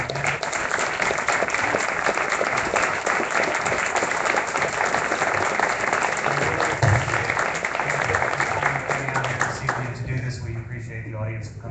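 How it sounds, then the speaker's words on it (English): Audience at a Des Moines civic event clapping for guests, a steady, full round of applause lasting several seconds before tapering off as a voice begins to speak. "if everyone could give a nice round of applause to our guests."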